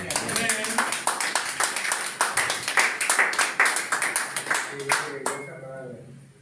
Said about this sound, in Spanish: Vamos a darle un fuerte aplauso a nuestro Padre.